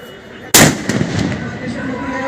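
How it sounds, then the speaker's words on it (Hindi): A single loud gunshot bursts out during an NCC battle drill demonstration at a cadet day event, a sharp close blast followed by a lingering echo and a few fainter pops over crowd noise. "देखिए आपने एक फायर का आवाज अभी सुना है"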